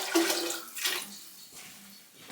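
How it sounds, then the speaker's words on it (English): Vinegar splashing and pouring into cold water in a canner, a close, gushing stream that swells and fades over a couple of seconds. "I'm going to just dump some vinegar in the water,"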